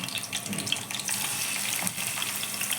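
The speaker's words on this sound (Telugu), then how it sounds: "ముందుగా నూనె పెట్టుకొని కొంచెం జీలకర్ర వేయించుకోవాలి" Cumin seeds frying in hot oil, a steady crackling sizzle with fine popping that runs continuously and fairly close throughout, with no voices.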